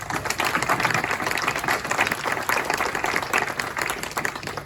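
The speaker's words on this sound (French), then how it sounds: "Alors on t'applaudit aussi Stéphane pour tout ce que tu fais pour nous" An audience at a book festival inauguration claps hands together, a continuous full round of applause that stays loud and steady from start to finish.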